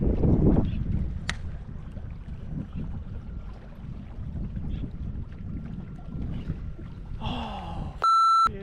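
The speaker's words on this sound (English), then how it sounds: "Trolling motor." A small electric trolling motor hums low beneath wind and water noise on a fishing boat floating the Colorado River, fairly close and steady, ending in a short electronic beep.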